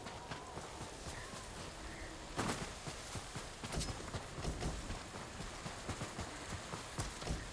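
Horse hooves in the video game Ghost of Tsushima, quiet clip-clop steps plodding at an uneven walking pace, faint and alone with a few louder thuds.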